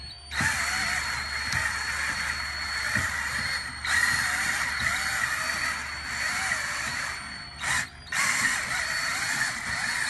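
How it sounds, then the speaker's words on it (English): A power drill runs in reverse, steadily and loudly, winching up a Jeep hard top on a Racor storage rack, its motor whining with a ratcheting mechanical grind, briefly dipping twice near the end before resuming. "the drill has been reversed to pull it up"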